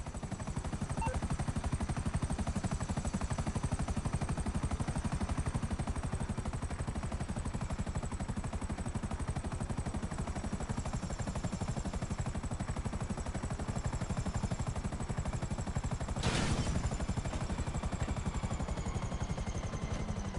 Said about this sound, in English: Is it okay if I leave my buzzard attack helicopter in here?